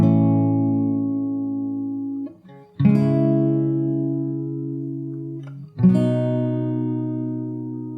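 Fingerstyle acoustic guitar plays the intro of a song, sustained ringing notes in three phrases with a brief pause before each new attack, close and clear with no talk.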